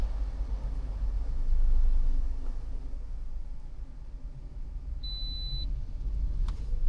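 Diagnostic VCI on a 2011 Toyota Corolla losing CAN communication gives a single short electronic beep partway through, heard over a steady low rumble of background noise.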